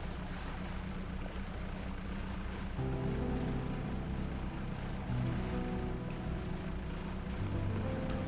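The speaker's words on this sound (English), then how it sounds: "this is so much faster with that extra engine." Steady low drone of a boat engine idling and running in a fishing horror video game, with a slight change in pitch partway through as the sound of a second engine joins the hum.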